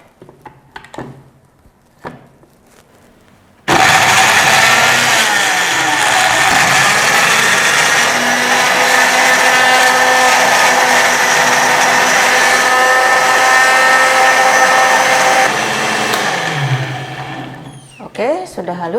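A kitchen blender whirs steadily for about twelve seconds while grinding spice paste with a splash of water for sate maranggi, loud and close, starting abruptly after a few soft knocks and winding down at the end.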